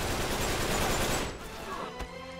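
Gunfire in Uncharted 3: a dense, rapid burst of shots at close range that fades after about a second, leaving softer ambient noise with one more faint pop.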